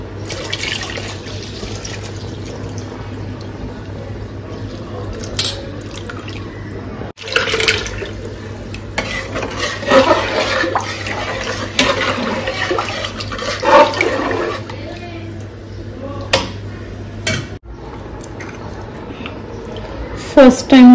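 Milk being poured into a large pot of kheer being cooked for about 200 people, a steady liquid gush lasting many seconds, with someone talking over parts of it.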